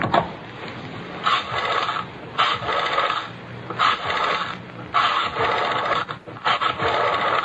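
An old-time radio drama telephone rings in a repeated pattern of bursts with short gaps, loud and close, with no voices.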